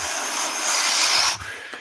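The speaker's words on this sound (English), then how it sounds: "that's the sound of the winds whipping across the tundra" Sound effect of fierce winds whipping across the tundra in Thule, played during a tabletop role-playing session: a loud, broad, airy rush that swells, then drops off abruptly near the end, with no talking.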